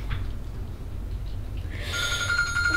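An electronic alarm goes off inside a home where a boy left home alone is asleep, starting partway through with a steady, shrill, continuous ringing that stays loud to the end, with no talking.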